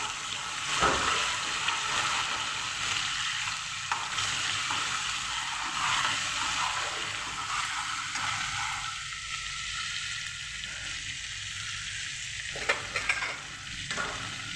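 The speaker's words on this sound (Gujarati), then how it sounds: "જીરું થોડું તતડે પછી આપણે આદુ, મરચાં, લસણની પેસ્ટ એડ કરીશું." Ginger, chili and garlic paste frying with crackling cumin in a pan, a soft steady sizzle with faint stirring scrapes and small clinks, fairly quiet and without talk.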